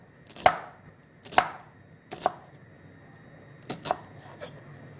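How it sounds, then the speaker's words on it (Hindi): A knife chops an onion on a board in five sharp, separate strokes at an uneven pace, close and clear, with quiet gaps between the cuts. "प्याज आपने इसी तरह काटनी है।"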